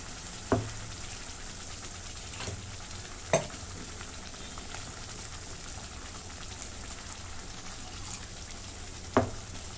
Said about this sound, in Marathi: आता मिक्सरचं भांडं आहे ना, त्यातलं पाणी चांगलं ओतते